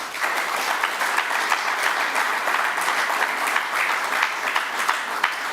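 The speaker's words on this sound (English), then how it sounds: "Give them a round of applause." Audience applause at a youth council political debate in Anguilla, a steady sustained clapping from a crowd filling the room without a break.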